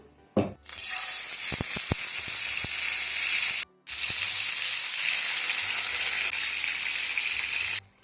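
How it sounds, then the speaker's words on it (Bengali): Marinated chicken hits hot oil with cinnamon in the pan, giving a loud, steady sizzle and crackle with a few sharp pops at the start and a brief break midway. "দারচিনিটা কিন্তু একটু তেলের সাথে ভাজা ভাজা হয়ে গেছে এখন আমি দিয়ে দেবো ম্যারিনেট করা চিকেনটা"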